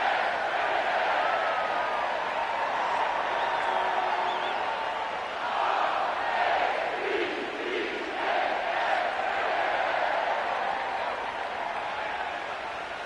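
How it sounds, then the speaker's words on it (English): A stadium crowd at Levi Stadium roars and cheers for the 49ers in Madden 25, a steady wash of distant voices with small swells, heard without clear talk over it. "And they're ready to cheer on their 49ers here at Levi Stadium."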